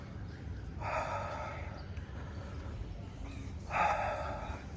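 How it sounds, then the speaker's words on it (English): Two deep, forceful breaths during yoga breath work, each a breathy rush of air about a second long, close and clear over a low background hum. "do some breath work"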